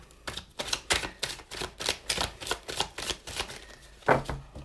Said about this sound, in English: I'm doing a couple shuffles just for you because I don't want you to think I didn't shuffle